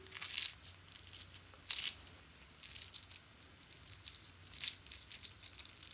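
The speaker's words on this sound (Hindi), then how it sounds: "कितना क्रिस्पी हुआ है आप साउंड को सुन सकते हैं" Crispy fried Malabar rice pathiri, a rice-flour flatbread, crunching and crackling in a few sharp bursts, close but faint, with quiet gaps between.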